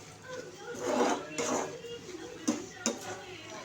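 Radish and dal curry being stirred in an iron wok with a utensil, giving a few soft scraping sweeps and then two sharper metallic knocks, close and moderately quiet, with someone speaking in between.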